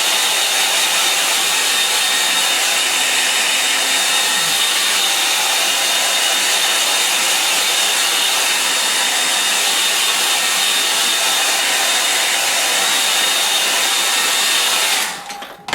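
A hair dryer is blown steadily over a watercolour winter lake scene on rough Bockingford paper. Its loud, even whooshing roar lasts about fifteen seconds without a break, then cuts off abruptly.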